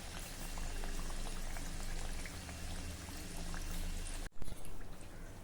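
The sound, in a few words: Shegaon kachoris deep-frying in oil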